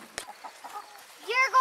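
Chickens cluck softly nearby in short bursts, ending with a louder squawk; a quick tap sounds near the start.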